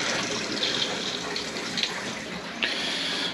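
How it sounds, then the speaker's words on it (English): Mains water rushes through a sealed heating system during a thorough flush, a steady close gushing flow with a few brief surges and splashes. "you can hear everything now shifting round through the system and coming out over here"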